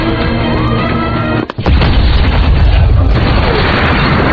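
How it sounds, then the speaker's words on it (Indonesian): An overturned car explodes in a film scene, a loud close boom with a deep roaring blast that rumbles on and fills the whole clip. "Sebelum mobil itu meledak, Steve mengambil dokumen rahasia yang dicuri wanita itu di bank"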